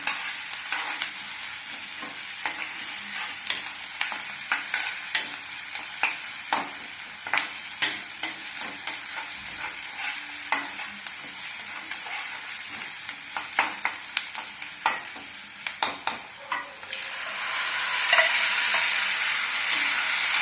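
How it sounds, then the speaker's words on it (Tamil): Curry leaves and ground masala frying in a pan for kadala curry, giving a continuous soft sizzle broken by frequent sharp clicks of a spoon stirring against the pan, swelling into a brighter hiss near the end, with no voices. "கருவேப்பிலை எல்லாம் வதங்கணும்."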